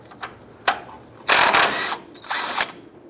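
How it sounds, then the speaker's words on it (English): A power tool with a 21mm socket spins the nut off a tie rod end on a 2004-2012 Chevy Colorado steering rack. A couple of faint clicks lead into two loud, short whirring bursts close by. "Using a 21mm socket, we're going to go ahead and remove the nut off of the tie rod end here."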